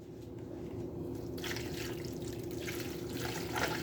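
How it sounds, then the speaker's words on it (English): Sauce poured over potatoes in a home kitchen, a soft steady liquid trickle and splatter running close by for several seconds with no talk. "And I'm gonna pour this over the taters."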